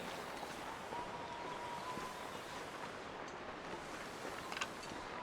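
Wind blowing in The Long Dark survival video game, a steady faint whooshing gust that holds constant throughout, distant and unbroken, with a few soft clicks near the end.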